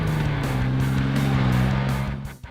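An off-road fabricated truck with a red body, roof rack, bed rack and aftermarket bumpers drives past, its engine a steady loud rumble with a pulsing tone that fades slightly at the end.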